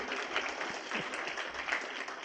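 Graduation ceremony audience applauding for a speaker at a Class of 2024 commencement, a steady, dense wash of clapping from a large crowd heard at a distance, sustained without a break.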